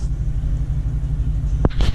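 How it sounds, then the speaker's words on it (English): Heavy road traffic crawls along a main strip during Myrtle Beach motorcycle bike week, a close, constant low engine rumble with a short burst of louder revving near the end. "yeah, the traffic's like insane here."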